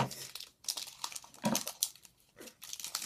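Crinkly plastic wrapper of a 2014 Score football trading card pack being cut and torn open, a few close, bursty crackles and rustles with brief pauses between.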